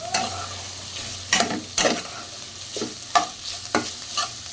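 Dried fish (shutki) frying in a pan until reddish, a soft continuous sizzle broken by several sharp spatula strikes and scrapes at irregular intervals, close and fairly loud.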